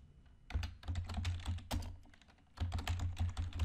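Rapid computer keyboard typing while code is entered in the Google Earth Engine editor, close and clear, in two dense bursts of clicking keys separated by a short pause, with no talking.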